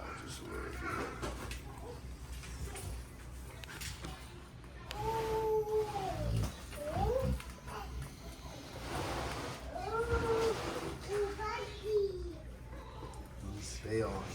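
Two-week-old Rottweiler puppy crying as it is picked up, several thin rising whimpers and squeals in bursts, close, with quiet voices nearby.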